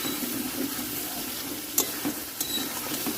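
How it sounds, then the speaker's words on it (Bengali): Water poured into spicy red chicken curry cooking in a pot, a continuous wet rushing and bubbling with a couple of brief clinks, alone with no talk. "এবার কিন্তু আমি দিয়ে দেবো জল"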